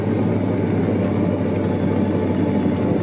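A small utility vehicle engine labours steadily while climbing through snow, a continuous close mid-pitched drone holding an even, strained rhythm with no talk over it.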